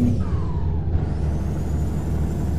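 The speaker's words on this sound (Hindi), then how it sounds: "ओ भाई खतरनाक साउंड है यार ट्रक का तो।" Volvo truck engine revving in Euro Truck Simulator 2, a deep steady rumble with a faint rising whine, alone and without talk.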